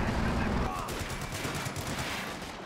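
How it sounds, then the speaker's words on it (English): A .50 cal machine gun firing in Company of Heroes 2 during a multiplayer battle, heard as a continuous rattle of rapid bursts amid distant battlefield noise, fairly faint and unbroken across the moment. "Good for the recoil on the 50 cal there"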